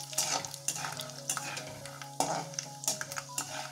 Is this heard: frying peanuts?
yes